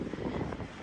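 Gusty wind on a blustery spring day at an observation tower in a Wisconsin state park, buffeting the microphone with a dull, broadband rush that swells and eases over a brief moment.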